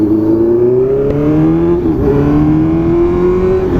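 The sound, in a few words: Honda CB650F four-cylinder motorcycle engine roaring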